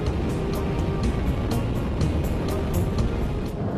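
A Daihatsu Sirion compact car accelerating hard on the motorway, a continuous loud engine and road roar heard from inside the cabin.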